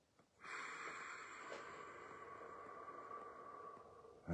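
A single long, deep breath drawn in through the nose, a soft airy hiss that rises quickly and holds steady for several seconds, quiet and close with nothing else around it.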